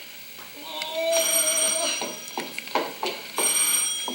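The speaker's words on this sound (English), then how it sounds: "The phone is ringing." A telephone ringing indoors with repeated electronic bell trills in short bursts, under a woman's anxious exclamations and movement in a tense domestic scene.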